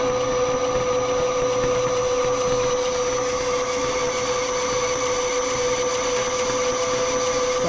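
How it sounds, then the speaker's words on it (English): A lathe running steadily while a centering drill machines a hex part for a BSA Bantam motorcycle, giving a constant loud mechanical whine and hum with a strong steady tone throughout. "And we bring in the centering drill."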